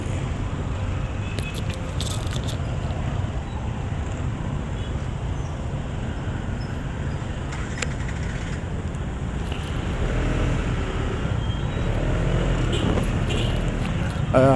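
Heavy road traffic crawls through a busy street in Barangay Santa Maria, Zamboanga City. A steady, dense wash of engine rumble and road noise runs throughout and swells slightly louder near the end.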